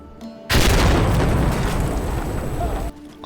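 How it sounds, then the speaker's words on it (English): A grenade blows up in Insurgency: Sandstorm, thrown through an open roof: a sudden loud blast with a heavy, sustained roar of debris lasting about two and a half seconds before it cuts off, with quiet ambience before and after. "you can throw a grenade through the open roof"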